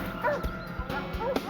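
A police tracking dog gives several short, sharp barks at medium distance, spaced irregularly over a second and a half, with other noise in the background.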